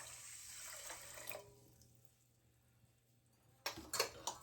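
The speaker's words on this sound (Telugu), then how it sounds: "2 కప్స్ కన్నా తక్కువ వాటర్ తీసుకుంటున్నాను" Water is poured into a pot of sugar to make syrup for gulab jamun, a short close splashing stream that stops, followed by quiet and then a few sharp kitchen clinks.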